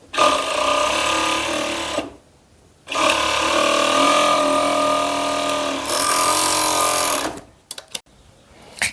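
A sewing machine stitches a seam on children's long-sleeve pajamas, loud rapid whirring runs in two long bursts with a short pause between, then stops with a few small clicks.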